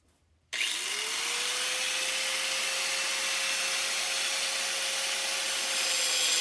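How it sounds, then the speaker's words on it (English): A grinder starts up abruptly after a short quiet moment and then holds a loud, steady high whine with a sustained tone while grinding a dictaphone part, with no talk. "I'm trying to grind things as carefully as I can."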